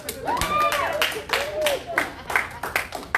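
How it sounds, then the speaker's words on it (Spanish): Members of a church Bible study audience clap in brief, scattered bursts, sharp and close, mixed with voices and cheering over the top. "Demos un aplauso."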